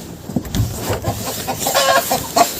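Guinea fowl and young roosters in a farmyard, a close burst of overlapping clucks, squawks and short cries in irregular rhythm, fairly loud with no talking.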